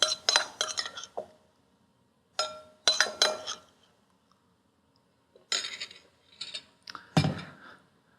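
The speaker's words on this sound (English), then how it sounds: "So take a little oven-proof dish and put some oil in it" A small oven-proof dish handled in a home kitchen, with oil being added: clear clinks and knocks of ceramic and glass in several short bursts, separated by quiet gaps, close by.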